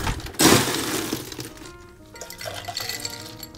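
Ice tumbling into a cocktail mixing glass holding whisky, Midori and vanilla liqueur, a sharp clattering crash of cubes followed by fainter clinks as they settle, close and loud with no talking.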